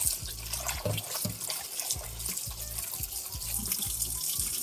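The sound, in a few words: cold tap water running over raw chicken in bowl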